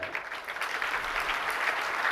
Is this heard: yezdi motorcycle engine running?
no